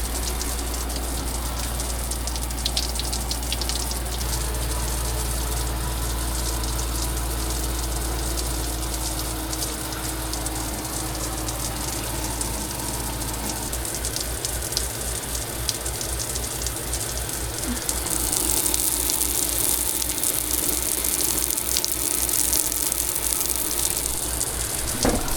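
Water sprays steadily from a shower in an off-grid cabin fed by a pump, a continuous hissing patter that shifts in tone partway through as the flow or its landing spot changes, close and alone.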